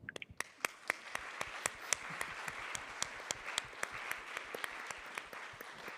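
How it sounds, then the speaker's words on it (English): An audience at the GPAI 2021 Summit in Paris applauds, giving a moderate spread of sharp individual claps in a loose, steady rhythm that lasts the whole stretch. "A big round of applause to all of you."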